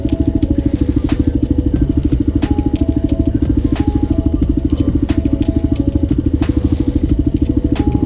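A Kawasaki KLR650 motorcycle engine runs steadily close by, a loud single-cylinder thumping pulse with light mechanical clatter throughout.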